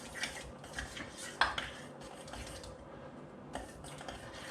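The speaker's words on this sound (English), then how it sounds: "So I'm just going to stir that pepper in" A spoon stirs pepper into carrot and coriander soup in a pot, giving soft scraping and a few light clinks of metal against the rim, close and quiet.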